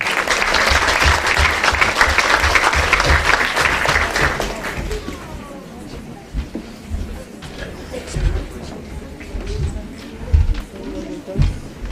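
Hearty crowd applause greets prize winners at the Drogheda Minds Exhibition awards, strong for several seconds before quickly tapering off as a voice takes over over the room's murmur.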